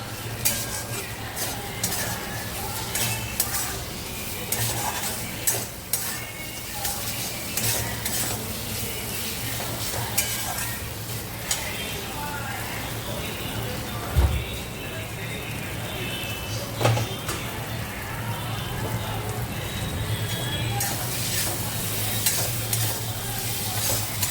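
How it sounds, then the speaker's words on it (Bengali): Vegetables being stirred and fried in ghee in a pan, with a steady sizzle throughout and occasional scraping of a utensil against the pan. "এর মধ্যে একটু ঘি দিয়ে দিলাম, দিয়ে একটু নাড়াচাড়া করে নেবো।"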